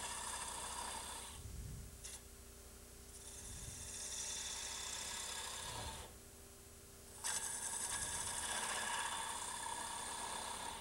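Skew chisel cutting wood on a lathe, shavings peeling off as a low rumbling hum with rhythmic scraping cuts that start, stop and resume, the cutting growing louder and harsher near the end.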